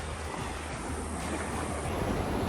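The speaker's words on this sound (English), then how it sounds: "Yellowstone River, Hellroaring Creek right here coming in." Hellroaring Creek pouring into the Yellowstone River in a mountain canyon in Yellowstone, a steady, dense rush of flowing water with some wind noise, continuous and fairly loud throughout.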